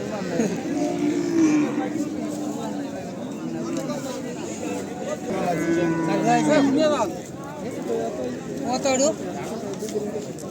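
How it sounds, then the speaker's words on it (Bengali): Cattle and calves at a large livestock market in Charmonai, Barishal, give repeated close, drawn-out moos, with crowd chatter and voices running underneath. "এই একটা আছে গাই বাছুর, আছে ষাঁড় বাছুর।"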